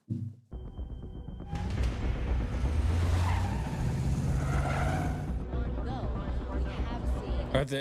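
A car in a TV drama scene drives hard with tires squealing and a loud, sustained engine roar that fills several seconds before easing off.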